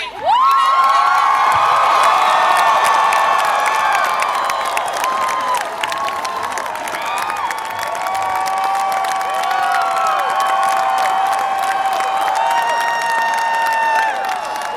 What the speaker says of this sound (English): So please give a warm round of applause to the next President of the United States.